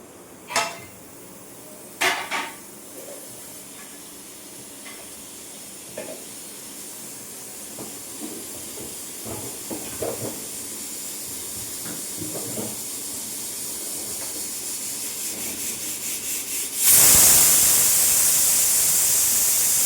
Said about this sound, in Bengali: প্রেসার কুকারটা বন্ধ করে দিলাম, 3টে সিটি পড়ে গিয়েছে।